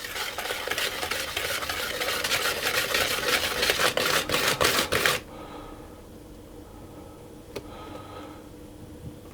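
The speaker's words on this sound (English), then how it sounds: "I'm going to whisk it again until that's fully combined" A whisk beats starch into a custard mixture in a bowl, producing rapid, steady metallic scraping and clicking that builds in intensity for about five seconds, then stops abruptly, leaving quiet room tone with a single faint tap.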